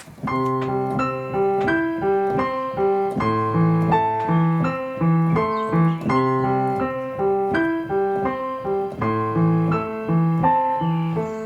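A simple melody of only stable tones plays on a piano with even rhythm, steady and settled, clear and unaccompanied by voices.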